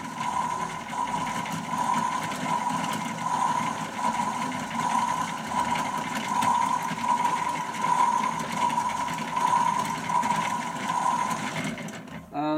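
A Casdon Hotpoint toy washing machine runs its eco wash cycle with a steady, whirring motor hum and faint rattling that continues alone without pause until a clunk at the end.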